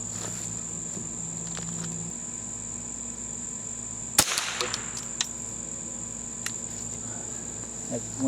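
A Glenfield .22 squirrel-stock rifle fires one sharp, close shot that cuts through a steady outdoor backdrop of chirping crickets and insects.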